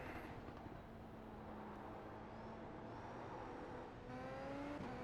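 A race car engine in the iRacing sim on the Nordschleife drones steadily at moderate level, with pitch sweeps as it shifts through gears, and no voices over it.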